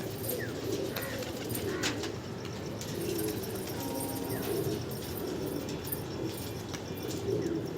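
Roller pigeons coo softly and repeatedly outdoors, their low murmuring calls layered over a steady background hiss, with occasional faint chirps and wing sounds.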